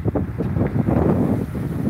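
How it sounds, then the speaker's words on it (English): Strong wind buffets the microphone in low, rumbling gusts, loud and close, with no other clear sounds. "I know it's windy"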